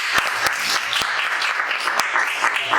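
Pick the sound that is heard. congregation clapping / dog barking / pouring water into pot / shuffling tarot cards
congregation clapping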